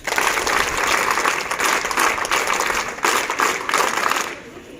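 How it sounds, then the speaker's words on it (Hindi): Audience applause at a Scouts and Guides day event at DIET Jaunpur, a crowd clapping steadily with slight surges for a few seconds, then tapering off sharply at the end. "धन्यवाद, ताली बजाएं"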